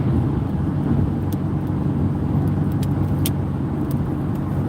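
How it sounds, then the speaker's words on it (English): A car driving on a road covered in loose stones, with a loud, steady low rumble and gritty crunching from the tires that runs unbroken throughout. "You can hear all the stones."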